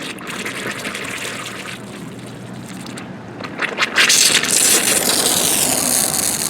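Leaking inground sprinkler heads hiss and gush as the line fills, the spray building from a low trickle into a louder, steady rushing of water partway through.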